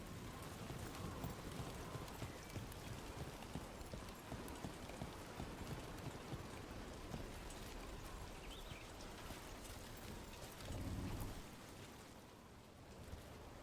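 Steady rain falls in Dragon Age: The Veilguard video game, a soft, even hiss throughout with muffled thuds and a brief louder rumble near the end, no speech.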